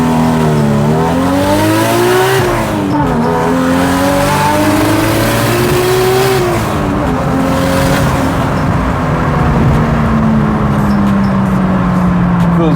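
A Nissan Skyline engine, recently repaired and turbocharged, pulls hard under acceleration, its loud revving drone rising and shifting pitch through gear changes from inside the car, with voices faintly under it.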